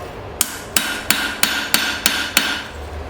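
A hammer strikes hot steel while an old file is forged, seven sharp, ringing blows landing in an even rhythm about a third of a second apart, close and loud.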